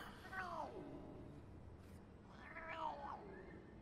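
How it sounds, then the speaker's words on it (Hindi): A cat meows twice, about two seconds apart, quiet and slightly distant, in a domestic drama scene. "ओह, बिल्ली है।"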